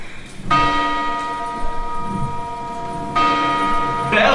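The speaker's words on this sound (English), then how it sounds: "Bells!" Church bells ring out in a stage performance, sustained metallic tones with a strike near the start and another about three seconds in, the resonance hanging between them.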